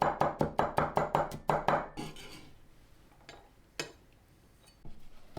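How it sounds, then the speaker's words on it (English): A knife finely chopping garlic cloves on a cutting board, a rapid even run of about ten crisp close taps, then a pause with a couple of scattered knocks. "Finely chop 5 cloves of garlic."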